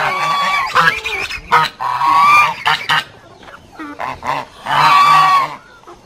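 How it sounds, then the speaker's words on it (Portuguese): Geese on a farm honk loudly and harshly in repeated bursts close by, several birds calling over one another with short gaps between them. "E os gansos estão brabo ali, ó."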